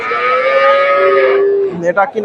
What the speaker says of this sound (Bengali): এগুলো সবগুলাই ষাঁড় বাচ্চা।